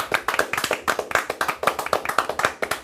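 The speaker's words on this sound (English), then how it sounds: "I think they all deserve a big round of applause" A small group claps in a quick, uneven rhythm for primary school students at a regional F1 in Schools final, the individual hand strikes close and distinct over about three seconds.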